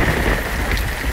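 Heavy rain pours down steadily in a dense, continuous hiss close by, with no voices over it.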